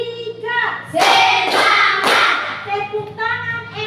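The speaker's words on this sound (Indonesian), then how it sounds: "Tepuk tangan 3." A class of children claps hands together in a brief rhythmic pattern during a classroom ice-breaking game, the loud clustered claps mixed with young voices chanting along.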